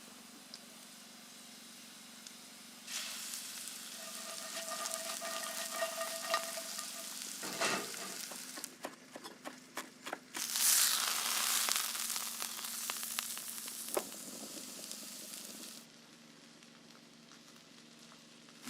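Young fireweed shoots frying in a pan outdoors in Alaska, steady sizzling with bursts of louder hiss as they are stirred, a motor humming faintly in the background.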